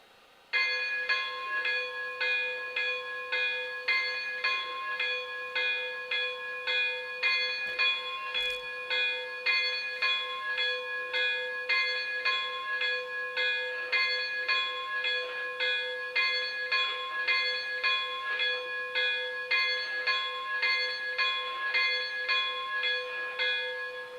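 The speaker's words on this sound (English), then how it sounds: "one of the coolest features, which is the swinging bell" The swinging bell on a Lionel Vision CC2 0-8-8-0 model steam locomotive rings steadily and clearly, struck in an even repeating rhythm for a long stretch with a bright, sustained metallic tone.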